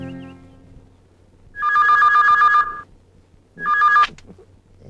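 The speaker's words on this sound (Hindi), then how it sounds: "गुरु का फोन है, आपसे बात करना चाहते हैं।" A telephone rings in two bursts, the first long and the second shorter, loud and close in a quiet room with no talk during the rings.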